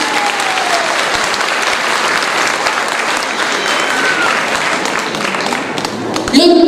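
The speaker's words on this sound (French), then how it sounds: "Ben nous applaudissons camarade Alan." An audience at a political party congress in Mauritius applauds a comrade, a dense, loud, sustained wash of clapping that ends in a sudden shift of sound near the end.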